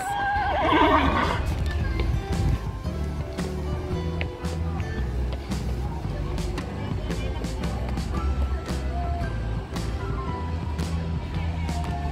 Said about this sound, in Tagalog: Tingnan natin yung kabayo ko dyan.